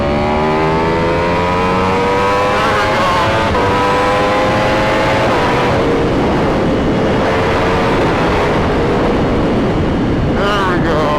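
A Ducati Panigale V4 SP2 sport motorcycle rides an open road at night, its engine droning steadily with rising and shifting pitch as it accelerates, loud and close throughout the clip.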